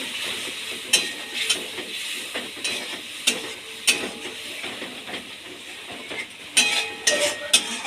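Pointed gourd curry sautéing with ground spice paste in a pan, a steady close sizzle and hiss broken by irregular spoon scrapes and taps against the metal, moderately loud and without talk.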